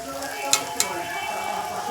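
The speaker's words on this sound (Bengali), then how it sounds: "এই দেখো লুচি ভাজছি।" Luchi deep-frying in hot oil for a breakfast batch, a steady soft sizzle throughout with two sharp clinks or pops near the middle, close and fairly quiet.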